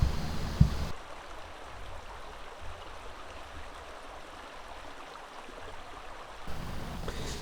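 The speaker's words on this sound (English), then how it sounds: "Soon I came to this beautiful creek, a perfect spot for a lunch break." A forest creek along a mountain trail on the Hetch Hetchy loop flows with a soft, even rushing, quiet and steady, with a few louder handling bumps at the start and end.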